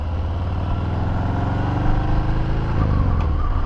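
A Harley-Davidson Fat Bob motorcycle riding along, its engine a steady deep rumble with a dense low throb that swells slightly partway through, heard close and continuous without speech.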